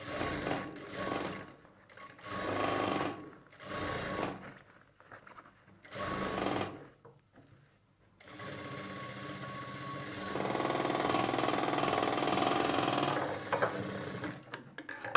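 A sewing machine stitches sleeves onto a garment in several short bursts of fast mechanical whirring separated by pauses, followed by a longer continuous run, close and clear with no talk.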